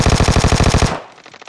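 Vector submachine gun in PUBG Mobile firing one rapid, loud burst of about a dozen evenly spaced shots that stops abruptly, leaving a brief fading echo.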